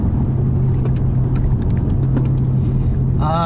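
A 2017 Lexus GS F with a V8 engine rolls downhill, its cabin filled with a loud, steady low engine hum and road rumble, with a short burst of faint chatter near the end.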